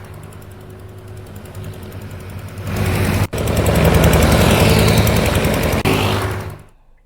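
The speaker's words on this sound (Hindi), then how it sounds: "कार को ट्रैक्टर के जरिए बाहर निकाला गया।" A tractor engine pulls a car out of floodwater: a low rumble that suddenly swells much louder partway through, holds, then dies away at the end.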